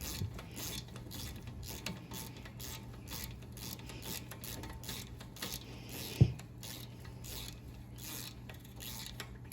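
Ratchet tightening the brake caliper bolts on a Ford Escape SE during a front brake and rotor job: quiet, steady mechanical clicking and rubbing over a low hum, with one sharp metallic knock partway through.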